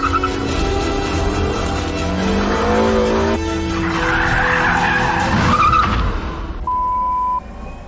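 A car skids after the handbrake is pulled, its tyres squealing loudly over the engine's revving, the squeal rising and fading before a short steady tone near the end.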